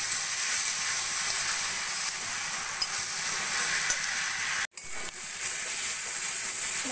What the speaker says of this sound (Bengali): এবার আমি ভালো করে মশলাটা কষিয়ে নেব।